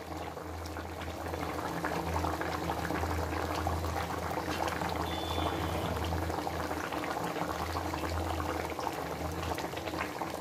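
Hilsa fish curry with potato and pointed gourd bubbles in a pot, a steady, close, continuous simmering boil with no voices.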